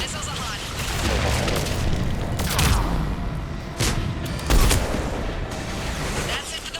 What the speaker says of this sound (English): Thankfully though, we've got air support. Missiles are hot.